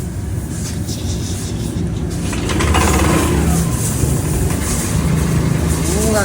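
A Yamaha Nmax v2 155 scooter with a dropped idle runs after a push-start, its engine a steady low rumble that grows slightly louder partway through, with voices over it.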